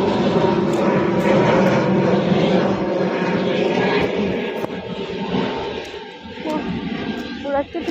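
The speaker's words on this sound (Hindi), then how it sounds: "यहाँ पे हेलीकॉप्टर जा रहा है" A helicopter flies overhead in cold, rainy weather, its engine a steady, broad droning roar that swells and then eases slightly, with voices talking underneath.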